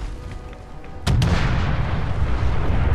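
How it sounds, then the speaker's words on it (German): A car explodes in the video game Fallout 4 with a sudden loud boom that gives way to a sustained roaring rumble of burning debris. "Auto explodiert."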